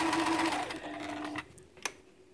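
Bernina Bernette 740e sewing machine running a zigzag stitch, a steady close whirring that stops partway, followed by a couple of faint clicks and knocks.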